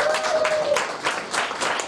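Comedy club audience clapping at a stand-up show, a short burst of applause from the crowd, fairly loud and continuous with some scattered voices mixed in.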